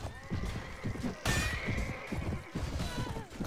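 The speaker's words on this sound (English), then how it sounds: "this horse is fast" Hooves of a galloping horse in a video game drum in fast, steady clip-clops while the horse gives a loud, shrill whinny partway through, with game sounds underneath.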